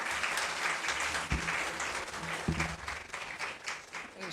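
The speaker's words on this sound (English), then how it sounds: "এটা বলে দিলে দেবে তোমরা হাততালি?" Audience applause at a student awareness program on drug abuse, a steady dense wash of many hands clapping with a few louder claps, heard alone at moderate level throughout.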